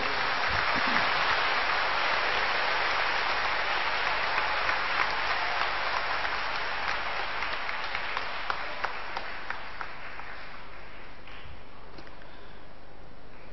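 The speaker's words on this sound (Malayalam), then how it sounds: "എല്ലാവരും ഒന്ന് കൈയടിച്ച്." A church congregation at an inauguration applauds together, giving a sustained wash of clapping from many hands that gradually thins and fades.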